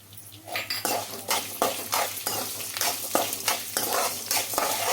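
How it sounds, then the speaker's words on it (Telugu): Peeled garlic fries in a pan for an onion chutney, with repeated rhythmic stirring and scraping strokes of a metal spoon over a loud, close sizzle. "ఈ ఎల్లిపాయలు కూడా వేసి బాగా ఫ్రై చేసుకోవాలండి"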